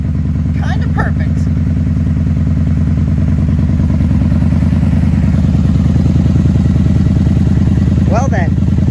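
A 1994 Honda Magna motorcycle engine idles steadily and loudly at about 1,000 rpm with the choke off, with a faint clatter near the start and brief chirps toward the end.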